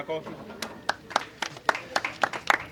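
Audience at a community event clapping for young medal and certificate recipients, a short run of sharp, spaced hand claps.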